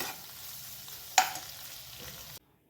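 Egg bhurji is stirred in a frying pan over a soft, steady sizzle. A single sharp scrape of the spatula stands out midway, and the sound cuts off abruptly near the end.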